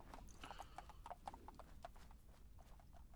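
Horse hooves clip-clop in a steady, quick rhythm with a faint whinny mixed in, in the video game Fallout 4: London, quiet and close with no talk.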